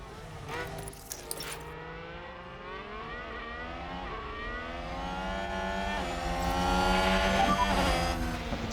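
Race cars in F1 Manager 2022 at the Bahrain GP, engines whining with rising pitch as they overtake, a steady droning roar that swells louder toward the end, with radio-style voices talking over it.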